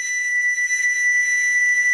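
Steady, sustained pure tone from a tuned reed pan pipe (trstenke) with a plug setting its pitch, holding a single note alone for two seconds with bright overtones.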